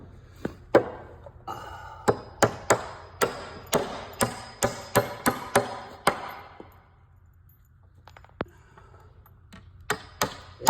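A hammer taps a wooden stud into place while building a concrete form, a rapid run of about a dozen sharp, close knocks, then a pause and a few scattered final taps.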